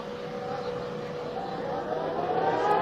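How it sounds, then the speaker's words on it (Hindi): A steady air raid siren wails continuously in Jaisalmer, India, a sustained droning tone slowly swelling in loudness, heard from a distance with faint background noise. "सायरन बजना शुरू हो गया है"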